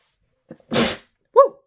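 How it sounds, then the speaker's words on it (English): A single sharp, breathy sneeze bursts out close by, followed a moment later by a short vocal exclamation. "I'm gonna sneeze."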